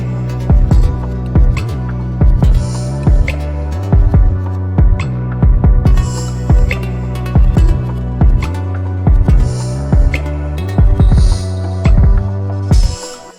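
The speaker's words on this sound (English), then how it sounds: "So it's like almost like a heartbeat" A loud, punchy kick drum in FL Studio thumps in a repeating pattern of close double hits, like a heartbeat, with a deep hum underneath and brief gaps.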